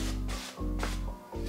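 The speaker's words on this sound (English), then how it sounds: "we're gonna spray these with some avocado oil cooking spray" Avocado oil cooking spray misted over raw egg rolls, giving two short hissing bursts in close succession, near and fairly loud.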